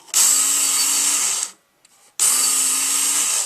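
A Work Sharp powered knife sharpener runs in two steady bursts of high abrasive whirring as a belt grinds a blade, separated by a short pause of near silence.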